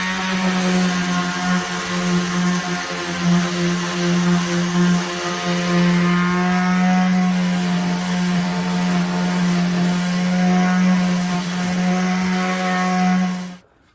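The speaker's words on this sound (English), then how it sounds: "Now I just got a bunch of sanding to do." A power sander sanding wood whines loudly and continuously with a strong humming drone, running without pause until it cuts off abruptly at the end.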